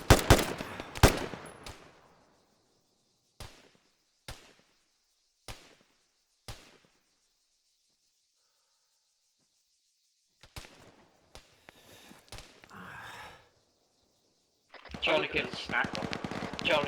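Bursts of automatic gunfire from a military combat game, loud and close, open with a rapid volley and then give way to spaced single shots and short rattling bursts, ending in a dense stretch of firing with voices.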